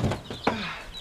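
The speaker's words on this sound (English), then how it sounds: "It's a fish tote with insulation and 36 chickens." Barred Rock chickens packed into an insulated fish tote give short, close clucks and murmurs in a brief burst.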